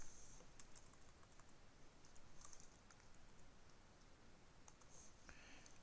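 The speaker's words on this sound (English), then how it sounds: "I'm going to come over here and type in step 1 colon SFC step type" Quiet, steady typing on a computer keyboard, with rapid light key clicks pattering continuously at an even pace and a few sharper taps standing out; no speech.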